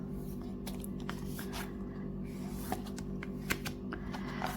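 Tarot cards are shuffled with faint, soft rustling and a few light riffling clicks over a low, steady background hum.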